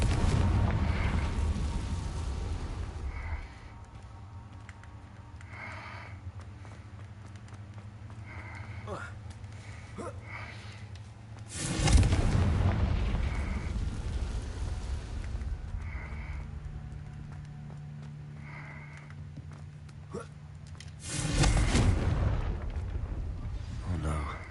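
Confringo fire spells blasting in Hogwarts Legacy, three booming explosions that each rise suddenly and rumble on for several seconds, with game footsteps and small sounds between them.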